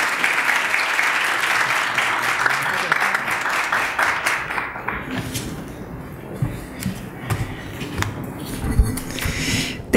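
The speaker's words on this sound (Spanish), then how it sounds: "le damos un fuerte aplauso de bienvenida, por favor." A seminar audience in Peru on childhood and adolescence claps loudly to welcome a speaker. The dense applause fades after about five seconds into scattered claps, thumps and room noise.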